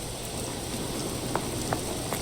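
Rain effect in the video game Sherlock Holmes The Awakened near a lighthouse by the sea: a steady, even wash of falling water with a few faint splashes, heard alone without talk.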